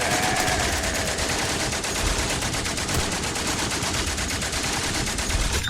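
Gunfire and artillery salvos fill a World War I battlefield in the video game Valiant Hearts: The Great War, a dense, loud, continuous barrage of rapid shots and blasts with no break.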